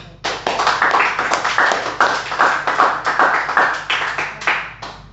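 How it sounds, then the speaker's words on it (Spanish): A church congregation claps loudly together, a strong round of sharp, dense hand claps close by that carries on for several seconds. "Bríndele un fuerte aplauso al Señor."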